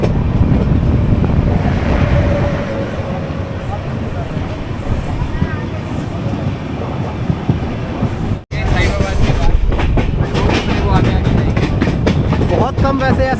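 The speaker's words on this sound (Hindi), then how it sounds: "हमारी ट्रेन भी थोड़ा स्पीड पकड़ रही है" An LHB Garib Rath train on the Anand Vihar to Bhagalpur run picks up speed, with loud continuous rumble and rhythmic clickety-clack of wheels over rail joints heard from inside, and a brief dropout partway through.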